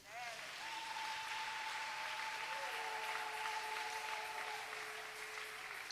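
A church congregation applauds at a French-language sermon, with a steady wash of crowd clapping, faint and continuous. Sustained organ or keyboard tones play underneath and voices sound in the background.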